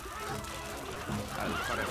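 A horse whinnies with a rising, wavering call over a steady background of game ambience in Stronghold: Crusader, with no talking.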